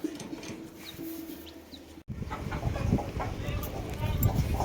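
Farmyard chickens cluck and scuffle around scattered feed, a steady close, moderately loud bustle that grows busier after a brief pause, with someone talking over it at the start.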